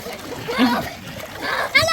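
Water splashes in bursts in a swimming pool while children's voices chatter nearby, with a sharper splash near the end.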